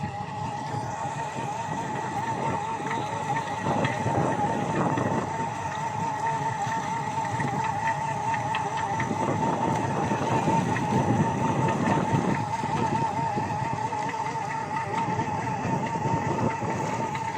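A purse seine fishing boat's net-hauling machine runs steadily at sea, a loud continuous mechanical engine drone with a constant tone and rumbling churn throughout, no clear speech over it.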